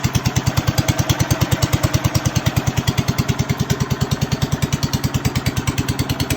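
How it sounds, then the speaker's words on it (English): International Harvester Cub Cadet 102 garden tractor engine running without its exhaust fitted, a loud, close, steady chugging with an even rapid pulse throughout and no talking. "Motor sounds good, nice, smooth, no weird noises."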